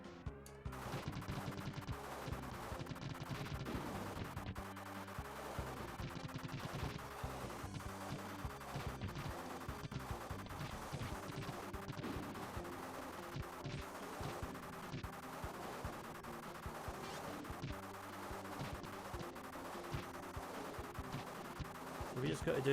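Rapid gunfire and blasts from the 1994 SNES game The Death and Return of Superman, during a side-scrolling shooting level against a kryptonite cannon, running dense and continuous under busy game music, with a voice talking over it.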